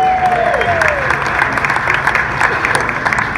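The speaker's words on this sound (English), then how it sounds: "Give yourselves a round of applause" Applause from an audience, steady clapping over a noisy room with some voices mixed in.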